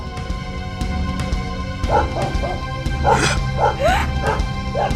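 A dog barks and yips several times in quick bursts over a steady background hum, fairly close and loud, with a slight whimpering edge.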